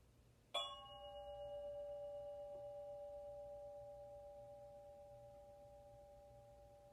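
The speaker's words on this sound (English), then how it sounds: "I'm going to ring the bell again" A meditation bell strikes once, then a clear, pure ringing tone hangs and slowly fades over several seconds against a quiet room.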